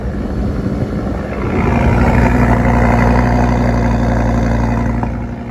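A naturally aspirated V10 sports car engine idles close by in a steady hum, swelling slightly in loudness midway before easing off near the end, with no voices.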